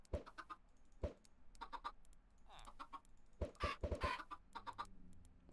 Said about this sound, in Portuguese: Espertas essas galinhas, é?